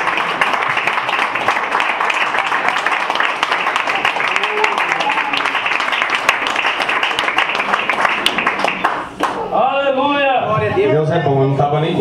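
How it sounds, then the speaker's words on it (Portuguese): Congregation applauding during a Pentecostal church service, sustained loud clapping that runs for several seconds under voices, then gives way to singing or chanting voices. "dando a maior salva de palmas para o Senhor"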